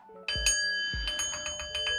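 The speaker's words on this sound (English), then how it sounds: "I don't know why I'm so afraid to ring that fucking bell." A small bell is struck twice, each strike ringing with bright sustained tones, followed by a run of lighter, quicker dings that fade in a quiet indoor room.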